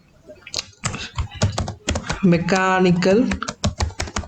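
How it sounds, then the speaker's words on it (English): Rapid clattering keystrokes on a computer keyboard, close and irregular, with a brief sustained tonal sound in the middle and soft talk nearby. "so here I'm typing that."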